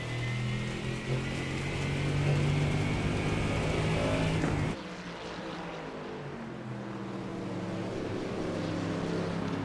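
A GT3 race car lapping Brands Hatch on a wet track in iRacing, a steady loud engine drone with tyre and spray hiss that drops sharply in level midway, then carries on at a lower, rumbling pitch.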